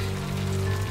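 Steady rain falls continuously on a surface at a farm estate before harvest, a dense, even hiss with no voices.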